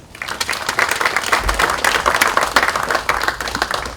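Applause fills a Democratic Party of Korea caucus meeting, a dense and steady patter of many hands clapping together throughout, fairly close and continuous without pause.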